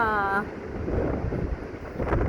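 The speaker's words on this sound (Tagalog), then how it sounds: "Ang lakas ng hangin" Strong wind from a typhoon buffets the microphone with a low, steady roar, and a brief tonal whine fades out in the first moment.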